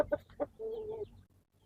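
A brooding mother hen clucks softly at close range: a few short, quick clucks followed by one longer, drawn-out cluck, then quiet.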